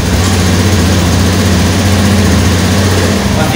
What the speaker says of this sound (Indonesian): Hidupkan mesin kendaraan dalam putaran stasional.